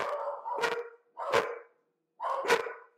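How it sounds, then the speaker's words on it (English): Several pet dogs indoors bark in three loud, close bursts, each a cluster of sharp yelps separated by brief silences. "my dogs think that somebody like walked in or something. So they start barking"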